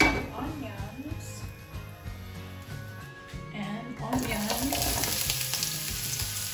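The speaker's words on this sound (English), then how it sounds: "we're going to saute some onions" Onions sautéing in a pan while cooking corned beef: a steady sizzle and frying hiss runs throughout alongside stirring, under continuous talk and background music, growing louder in the second half.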